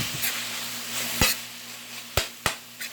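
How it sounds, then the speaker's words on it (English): Tortellini being stirred in a cooking pan for a cheesy alfredo dish with ground pork, heard as a few sharp utensil scrapes and knocks against the pan over a soft, steady sizzle, fairly close and without talk. "So I'm going to give this another stir."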